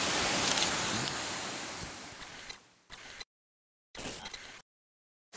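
Rushing broadband roar of a waterfall, loud and continuous at first, then fading and breaking into short bursts separated by complete silence.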